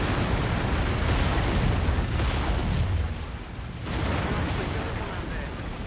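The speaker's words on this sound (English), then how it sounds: "See how the weapons depot is going down." A weapons depot blows up in Mechwarrior 5, a dense roaring, rumbling blast that stays loud and continuous throughout with fiery crackle and booming swells.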